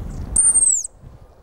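A single thin, high-pitched whistled call imitating a thrush for thrush hunting, sliding slightly downward, short and clear against a quiet background.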